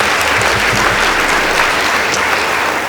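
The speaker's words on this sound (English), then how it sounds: "Please give them a round of applause." School debate audience clapping steadily for the Muthale Girls High School and Mumbuni Boys High School teams, a dense, even burst of applause throughout with no voices over it.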